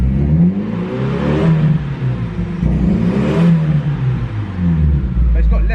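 A Datsun Sunny engine idling and revving during a build, with parts still missing and fewer vacuum leaks than before: a close, loud, smooth droning hum that swells and eases, while people talk over it.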